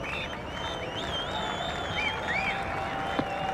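A cricket crowd at the 1994-95 Sheffield Shield final between Queensland and South Australia applauds a wicket, steady clapping and cheering from a large distant gathering with a few whistles rising over the ovation.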